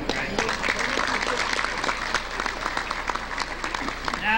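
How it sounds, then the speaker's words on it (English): Dinner audience at a 4th Marine Division veterans' reunion clapping steadily in a banquet hall, a sustained round of applause with a voice talking faintly underneath. "you can stop clapping"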